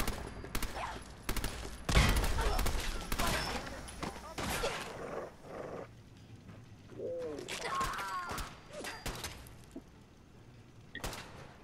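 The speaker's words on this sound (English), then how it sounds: "That's a machine gun." Machine-gun bursts in Fallout 4: sharp broadband cracks cluster near the start, with a heavy blast around two seconds, then sparser, quieter shots trail off over the remaining seconds.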